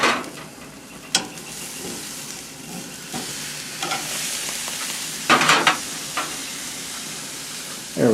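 Top round steak sizzles steadily in a pan, with a few sharp clatters and a louder burst of spitting as the meat is turned over.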